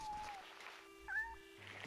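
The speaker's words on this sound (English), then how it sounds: "The cat can eat!" A small cat in the video game Shenmue gives a soft, short meow, quiet and close, amid faint game ambience.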